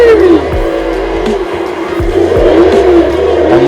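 A 1300-horsepower car in Forza Horizon 5 accelerates hard, a loud, close engine roar that rises and dips through several gear changes, each marked by a short falling pitch sweep, with no voice.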